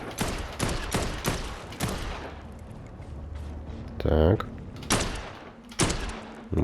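Sharp Dead Island 2 gunshots crack in quick bursts in a sewer level, then single shots spaced apart, with a deep booming blast in the middle and a voice briefly speaking.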